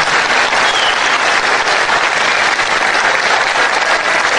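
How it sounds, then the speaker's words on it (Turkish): A crowd at a memorial event for a fallen soldier applauds loudly and continuously, dense steady clapping filling the whole stretch with no talk. "Şehidimizi alkışlıyoruz."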